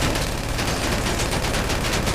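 Continuous rapid mini SMG gunfire from GTA V rattles without a break, loud and dense like a sustained burst.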